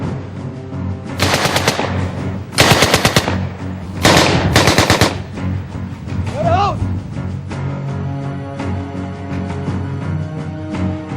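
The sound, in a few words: German submachine gun firing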